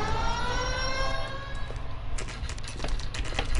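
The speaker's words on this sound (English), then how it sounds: "When you hear a police siren, you get out the way." A police siren wails with rising and falling tones that fade out partway through, over steady traffic rumble and a few sharp knocks.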